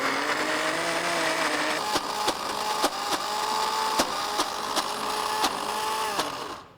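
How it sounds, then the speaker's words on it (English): Soaked falafel mixture is ground into a coarse paste in a blender or grinder, giving a steady loud whirring motor drone with sharp clicking knocks every half second or so as the mixture shifts. "now I'm going to grind these into a coarse paste with which we're going to shape our falafel patties"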